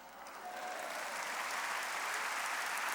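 A church congregation at a worship service claps together, the applause swelling within the first half second and then holding as a dense, steady roar of many hands.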